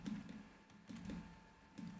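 Computer keyboard keys pressed while modeling in Blender 3D: a few separate clicks and short clusters of taps, close and fairly quiet, with no talking.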